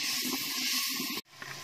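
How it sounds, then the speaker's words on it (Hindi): Garlic ginger paste frying in a hot pan gives a loud, steady hiss with faint crackle. It breaks off abruptly and is followed by a quieter, softer sizzle. "अब मैं इसमें लहसुन अदरक का पेस्ट जो बनाया था ये डाल दूँगी। इसे हमें भूनना है थोड़ी देर।"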